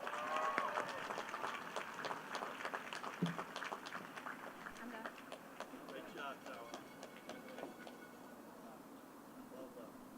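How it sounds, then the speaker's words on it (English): Applause from a commencement audience at a health sciences and STEM graduation ceremony, steady dense clapping that stays moderately faint and tapers slightly over about ten seconds. "Can I hear a round of applause?"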